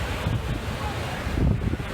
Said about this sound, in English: Pretty beautiful day out on the Pacific Ocean.